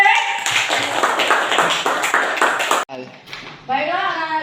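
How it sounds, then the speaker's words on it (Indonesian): Schoolchildren in a classroom clapping together in a quick, loud, rhythmic burst for a few seconds, close by, then breaking off as a teacher's voice speaks. "Ya, bagus, tepuk tangan"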